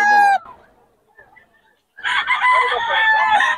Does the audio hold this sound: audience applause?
no